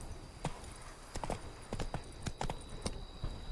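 Roach, a horse in The Witcher 3, moving at pace: crisp hoof clip-clops in uneven clusters against a hissing backdrop, close and fairly quiet.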